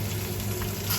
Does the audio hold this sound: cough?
no